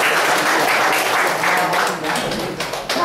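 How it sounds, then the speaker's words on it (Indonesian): An audience applauding a participant at an effective-communication training session in Cikupa, a loud, dense burst of clapping that continues throughout. "Beri tepuk tangan buat Mas Arsono"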